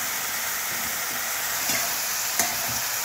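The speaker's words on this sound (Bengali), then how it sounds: "নুনের জন্য পেঁয়াজটা নরম হয়ে যায়, তাড়াতাড়ি ভাজা হয়ে যায়" Onions softened with salt fry in a pan and are stirred, giving a steady close hiss of frying with a few soft scraping strokes, no talking over it.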